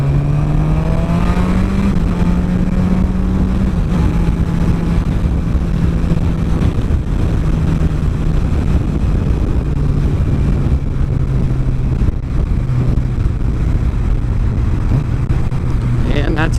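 A motorcycle accelerates through traffic while passing a long line of cars, its engine note rising and shifting through gears, loud and close, with steady wind and road roar underneath.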